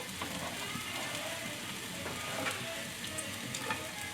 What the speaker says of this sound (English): we're gonna add in the onion and the sausage